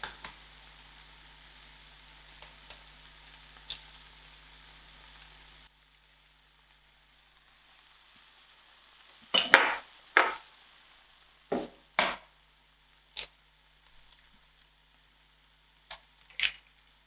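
Raw eggs cracked one at a time into a pan of cooked tomatoes for a methi and egg breakfast, giving a few soft, sharp taps and splats with a light sizzle in a quiet kitchen.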